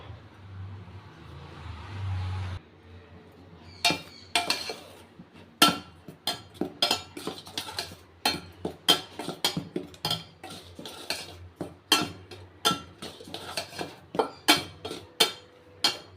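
Ragi flour dough being mixed with jaggery water, heard as a long run of sharp, irregular scraping and clinking strokes that come close and moderately loud after a short stretch of low background hum.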